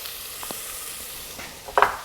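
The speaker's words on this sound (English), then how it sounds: "we are going to add our garlic to the pot" Garlic going into a soup pot makes a soft, even sizzle, with a couple of faint taps and then a sharper clatter of a utensil near the end, close by and quiet, no talking.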